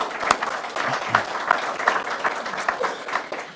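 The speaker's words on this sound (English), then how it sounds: "Please give them a nice round of applause." An audience at a Memorial Day essay award ceremony gives a steady round of applause, with many hands clapping at a moderate level throughout and a few sharper claps standing out near the front.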